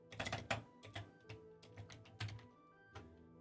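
Close, irregular clatter of keys on a computer keyboard as a command is typed into Minecraft chat, a quick burst of strokes followed by slower scattered taps and a final thunk, with no voice.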